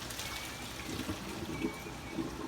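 Water draining from cooked potatoes for mashed potatoes, a faint, soft trickling and splashing that comes in small uneven spurts over low background noise.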